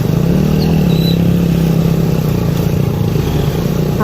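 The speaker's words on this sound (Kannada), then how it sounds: "ಆಫ್ ರೋಡ್ ಗಾಡಿ ತಿರುಗಿ ಹೋಗ್ತದೆ" An off-road vehicle crawling along a rough, slippery track near a hanging bridge, its engine droning loud and close without pause, with clattering and rattling from the bumpy ground.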